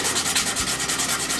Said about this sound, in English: sand these out